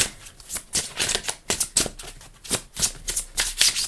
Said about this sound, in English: I'm gonna do a spread with these cards